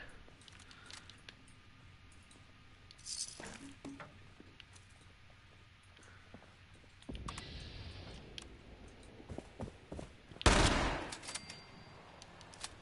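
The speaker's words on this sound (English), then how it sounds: "Perhaps I should use the shotgun." Shotgun blasts in Fallout 76, a few scattered shots at moderate distance with one loud, close burst near the end, over quiet game ambience and faint clicking.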